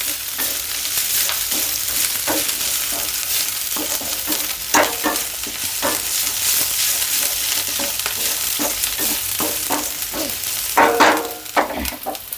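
Mixed vegetables stir-fry in a pan for paneer fried rice, kept slightly underdone. A steady close sizzle runs throughout, broken by repeated scraping strokes of a spatula, with a brief louder clatter near the end.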